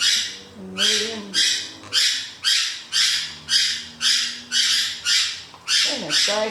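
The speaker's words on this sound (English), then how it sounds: "Goodness gracious, birds." Birds squawk in a steady series of about ten harsh, loud calls roughly every half second, close by, with faint brief voice-like sounds underneath.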